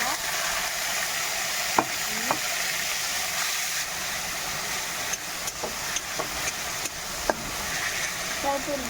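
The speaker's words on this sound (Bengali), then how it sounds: "এরপর মশলাটা দিব আর ভাজে নেবো। এরপরে দিয়ে দেবে আদা রসুন বাটা, আদা রসুন মরিচ বাটাটা।" Ginger, garlic and chili paste with spices frying in a hot pan, a dense continuous sizzle with scattered clinks and scrapes of stirring, and a voice heard faintly under it.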